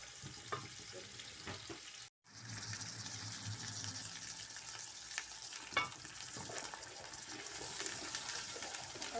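Onions frying in oil with garlic-ginger paste in a pan for chicken pulao, a continuous close sizzle with occasional stirring clatter and a brief drop-out near the start.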